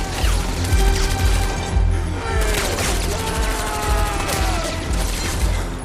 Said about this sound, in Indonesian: mengamuk sambil menembakkan senjatanya dengan membabi buta tanpa arah dan tujuan yang jelas